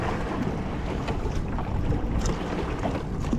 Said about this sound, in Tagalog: malakas na kasi ang alon